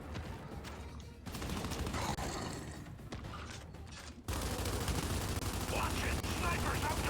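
Sniper and automatic gunfire from a video game rattles in dense, sustained bursts at moderate loudness, with a sharper stretch of shots near the end and talk mixed in.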